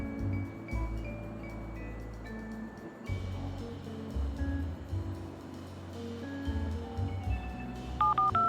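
Keypad dialing in the Leisure Suit Larry: Wet Dreams Dry Twice adventure game, a short run of tones near the end over steady ambient game music and background sound.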